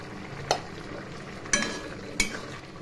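Prawn and pumpkin curry stirred in a pan just after ghee goes in, a low bubbling simmer broken by three distinct spoon scrapes at even intervals, close by, with no voices.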